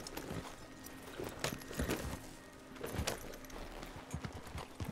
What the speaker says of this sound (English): So that's Dutch's horse